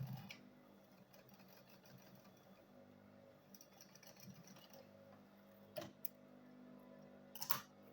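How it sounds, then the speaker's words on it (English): Sewing machine stitching a side seam on a small Ankara fabric mini purse, a steady quiet mechanical whir running throughout with a few sharper ticks and clicks near the end. "Then I'll sew this side also."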